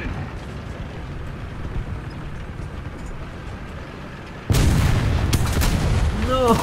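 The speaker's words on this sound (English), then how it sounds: "Machine gun ready for action." Gunfire in the War Thunder video game, a sudden loud onset of rapid booming shots over a steady engine rumble, continuing to the end of the clip.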